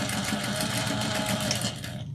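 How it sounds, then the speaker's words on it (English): A sewing machine stitches fabric for a tote bag with a close, loud, continuous mechanical hum and fast needle rhythm that cuts off just before the end. "Make sure you put your needle down when you pivot."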